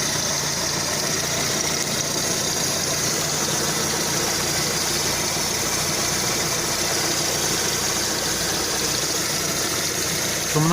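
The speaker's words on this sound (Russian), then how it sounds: "Шумновато движок работает." A Lada Kalina 2 engine idling hot at about ninety degrees, with a knocking hydraulic lifter, runs as a steady close mechanical hum with a faint fine ticking, continuous and alone with no talk over it.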